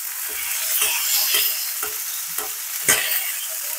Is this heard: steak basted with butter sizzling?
yes